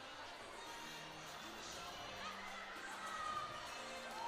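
A gymnastics-meet crowd in Nebraska's arena keeps up a low, steady wash of cheering and chatter, distant and faint, swelling slightly toward the end.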